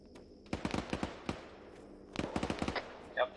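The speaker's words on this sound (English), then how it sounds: "Yep, there's an LMG gun." A light machine gun in Arma 3 fires two sharp bursts of rapid rounds, the first near half a second and the second just after two seconds, crisp and fairly close with brief quiet between.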